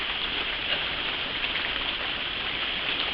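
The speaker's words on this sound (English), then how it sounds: "And it's cold and raining." Rain falls in a constant, even wash of soft hiss with no breaks, a cold wet backdrop heard alone without speech.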